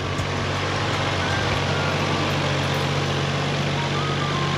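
Toyota Chaser Tourer V with a replaced turbocharger, its engine running at a steady idle: a continuous, even low drone with no revving and no talk over it.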